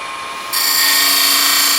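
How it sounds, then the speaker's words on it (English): A skew chisel cuts into wood spinning on a lathe, starting with a quiet whir before a sudden, loud, steady shaving hiss takes over and holds for over a second, close by and without voices. "So now I'll come back up with a skew"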